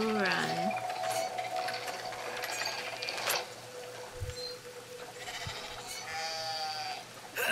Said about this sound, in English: You will pick up a sheep.